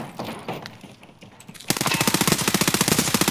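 Automatic gunfire in the video game Escape from Tarkov, a rapid, evenly spaced burst of loud shots that starts abruptly after quieter distant pops and keeps going to the end.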